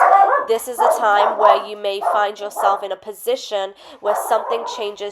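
A dog barks and yips repeatedly in short bursts indoors while fireworks go off outside, the barking sitting underneath continuous talking from a nearby speaker.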